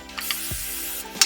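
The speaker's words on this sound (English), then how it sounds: "our first step is going to be putting non-stick cooking spray onto the pan" Non-stick cooking spray hisses onto a pan for mac and cheese in short, close, airy bursts, a few separate squirts with brief clicks of the nozzle between them.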